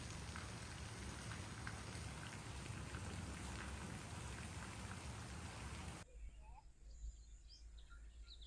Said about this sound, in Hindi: तो इतनी ज़्यादा बारिश है और ऊपर से जो है ना बिल्कुल भी रोक नहीं रही है